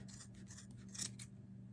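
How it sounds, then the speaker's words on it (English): Scissors snip through yarn loops while making a gnome ornament, with soft, faint rasping cuts in a quiet indoor setting. "I'm going to take my scissors and I'm going to come in and I'm going to clip all of these loops"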